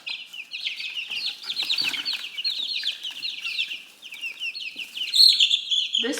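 Rhode Island Red chickens cluck and chirp steadily nearby in a spring garden coop, a busy overlapping chatter of young hens with no talk over it.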